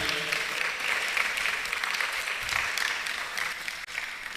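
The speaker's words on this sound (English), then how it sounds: "Let's appreciate a round of applause for all our contestants here." Steady applause from a public speaking competition audience fills the space, a dense wash of clapping that continues evenly without letting up.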